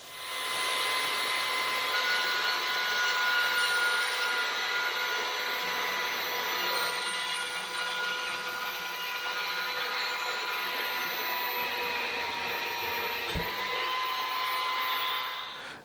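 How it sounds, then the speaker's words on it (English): Power saw cutting 1 1/4 inch square steel stock into short pieces, a steady loud whine and grind running continuously throughout without talk. "This saw does not cut perfectly square."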